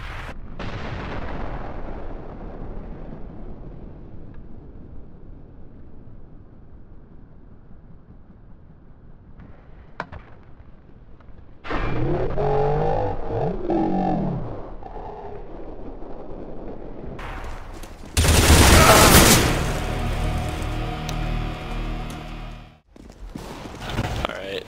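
A grenade blast and gunfire in the video game CS:GO, heard as a sudden loud burst followed by a long fading rumble, then more booming bursts and shots later on.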